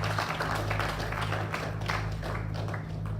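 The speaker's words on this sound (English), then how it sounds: "Another round of applause" Audience clapping at an official launch event in Nkuzani Village, a continuous dense round of applause with a steady low hum underneath.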